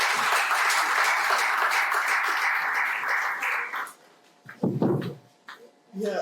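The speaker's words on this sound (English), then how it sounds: "Just a round of applause for our Director of Research." Audience applause for a research director at a seminar on Nigerian labour force statistics, a steady sustained round of clapping that fades after about four seconds into quieter room noise and brief speech.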